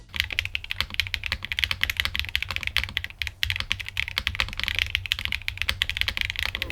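Continuous typing on a Think 6.5 V3 mechanical keyboard with a non-FlexCut PCB and no foam inside, giving a dense, fast stream of close, crisp keystrokes with no talking.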